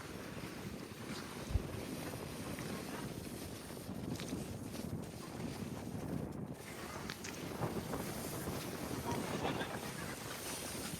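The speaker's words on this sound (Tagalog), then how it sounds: "Ang lakas ng alon." Strong sea waves at a beach in Bataan near a resort at sunset, a continuous rough wash of surf mixed with heavy wind buffeting, with no clear voices.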